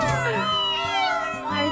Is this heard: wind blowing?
no